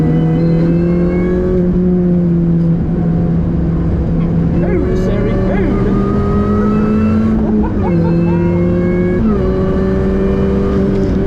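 A Mini Cooper S R53 races on a track day, its engine droning loud and close from inside the car, pitch rising with each gear and dipping at shifts while chasing another car into a braking zone.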